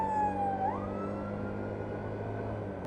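Emergency vehicle siren with flashing lights, a single wailing tone that drops in pitch as it passes, then fades into a steady, fairly faint background hum.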